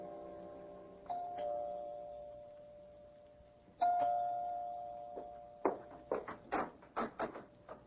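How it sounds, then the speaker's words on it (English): A doorbell rings twice in an old studio radio drama, each a sustained two-tone chime, followed by a quick run of sharp knocks or footsteps near the mic. "You can ring the doorbell."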